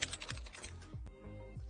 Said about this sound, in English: like your coworker typing in the middle of a video take